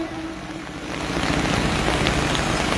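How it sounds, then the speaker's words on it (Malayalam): Rain pours at an outdoor political rally, a broad, steady hiss that swells louder partway through, with no talk over it. "മഴയാണ്."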